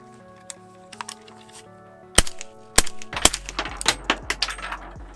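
A 300 Blackout rifle firing 220 grain subsonic rounds gives several sharp, close cracks spaced a few seconds apart, followed by a quicker cluster of smaller clicks and impacts. No hearing protection is in use.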